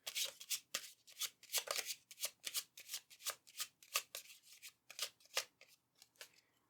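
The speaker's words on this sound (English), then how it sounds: "we'll do a riffle shuffle here" A deck of tarot reading cards being riffle shuffled, a rapid run of crisp, close riffling bursts repeating in quick rhythm for several seconds, with no talking.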